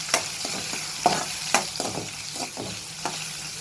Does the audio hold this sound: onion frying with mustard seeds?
yes